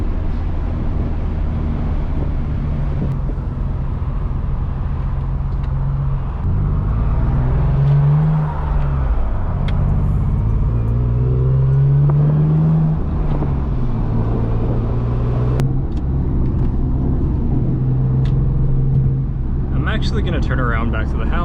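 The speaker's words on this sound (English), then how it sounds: "I think it's misfiring right now." A misfiring Lexus IS300's engine drones steadily while driving, with uneven surges and dips in its low hum, as a person talks over it throughout.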